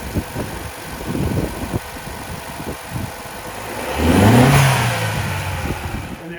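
A Chevy Cruze engine runs close by after a negative ground cable replacement. It idles with a low rumble, then rises through a single rev before it settles again.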